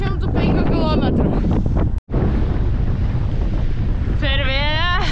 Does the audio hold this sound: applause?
no